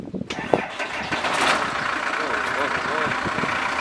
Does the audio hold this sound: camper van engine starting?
yes